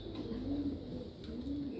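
Jacobin pigeons coo from inside a cage, a low, soft, rolling murmur that carries steadily for under two seconds at close range.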